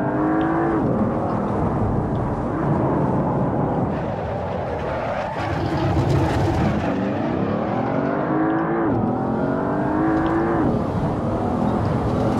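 Porsche Panamera Turbo engine in Assetto Corsa, driven on a lakeside road at Lake Louise: a continuous loud engine drone rising and falling with repeated revs and gear shifts, with no voices.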